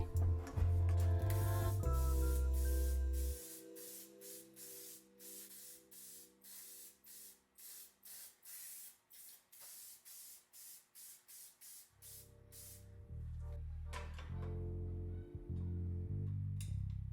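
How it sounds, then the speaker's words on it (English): Rust-Oleum black spray paint hisses from an aerosol can onto motorcycle foot pegs from a 1976 Kawasaki KM100, a steady loud spray with a low rumble at the start, then a run of short pulsed bursts before the continuous hiss resumes. "hosed down with some Rust-Oleum black spray paint"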